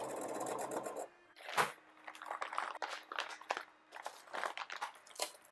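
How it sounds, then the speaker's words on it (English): A domestic sewing machine stitches the edge of a fabric boning channel for a medieval-inspired gown, running in short close bursts of rapid needle clatter separated by brief pauses and handling clicks. "Now I'm just going to sew off one of the edges"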